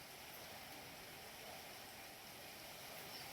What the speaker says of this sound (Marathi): 2 दिवस झालाय सारखा पाऊस चालू आहे